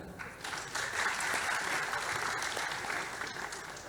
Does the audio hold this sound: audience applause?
yes